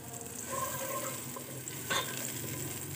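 Chopped medium onion hitting melted butter and ghee in a pan, giving a steady close sizzle and frying hiss with a brief stir or clatter near the end, no talk.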